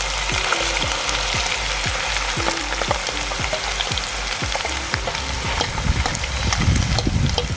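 Onion puree sizzling and frying in a pan for a Kathiyawadi kaju ganthiya curry, a loud, steady hiss with repeated scraping stirs throughout and no voices.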